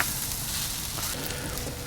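Onions caramelizing in a Dutch oven on a Kamado Joe grill give a soft, continuous frying sizzle, fairly quiet and steady throughout with no voices.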